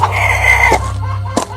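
Chickens cluck close by beneath a house, and a rooster's crow rings out clearly near the start, followed by a couple of sharp, brief squawks.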